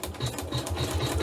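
A sewing machine runs steadily, stitching a line across a quilt with a quick, regular mechanical chatter, close and alone without any talk.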